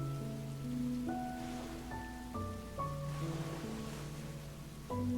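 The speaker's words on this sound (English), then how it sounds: "Rain continues to fall outside. The sound of it fills the apartment." Steady rain falling outside an apartment in the visual novel Tsukihime Remake, a soft continuous wash beneath a sustained synth-like musical score with shifting held tones.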